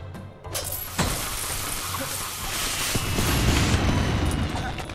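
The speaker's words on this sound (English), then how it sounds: "Oh, we saw part of the fireworks." Fireworks go off in the Lego Pirates of the Caribbean video game: a couple of sharp bursts followed by dense crackling and rumbling booms, with music or game ambience underneath.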